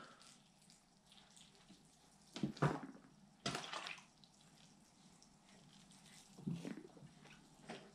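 Water poured over three bonsai pine seedlings in a tray, soaking into the soil: two soft splashing bursts close by, then a quieter pour near the end, over a faint room hush.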